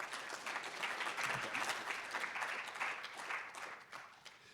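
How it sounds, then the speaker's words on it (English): Audience applause welcoming a professor to the podium at a mining and metallurgy institute's annual general meeting, a steady, dense wash of clapping from a seated crowd that holds fairly even for several seconds before easing slightly. "can I get a round of applause to welcome Professor Mike Solomon?"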